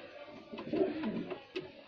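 A soft, low pigeon coo rising and falling over nearly two seconds, fairly close, with a faint higher call near the end.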